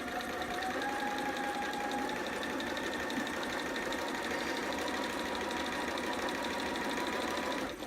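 A sewing machine stitches a romper seam in a fast, continuous mechanical whir at a steady pace, with no pauses.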